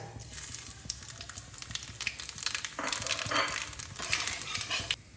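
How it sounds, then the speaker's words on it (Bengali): Black cumin, a dried red chilli and cardamom hit hot mustard-style oil left from frying rohu fish, giving a crackling, spattering sizzle with sharper bursts midway, fairly quiet and without talk. "এবার ওই মাছ ভাজার তেলেই আমি ফোড়ন দিয়ে দেবো"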